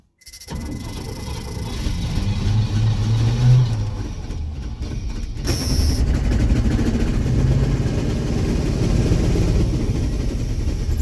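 A 1988 Chevy V30 one-ton 4x4 dually pickup engine idles roughly, steadily and loudly, with a brief stumble and change in tone midway before settling into a continuous low rumble.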